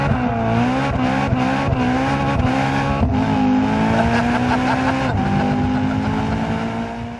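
A fully loaded BMW M3 with Competition, M Performance and Technology packs revs hard with stability control off, a loud, steady, buzzy engine roar that surges and holds high before easing slightly at the end.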